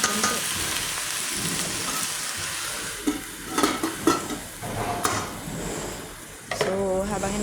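Pechay cooking in a partly covered pan gives a steady, close sizzle and crackle, with occasional clinks and scrapes breaking through.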